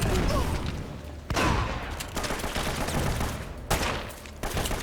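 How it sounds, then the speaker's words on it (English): Rapid bursts of gunfire from the video game Uncharted: Drake's Fortune, loud and close, in overlapping volleys with sharp louder shots around the middle and near the end. "I'm watching this exciting gunplay."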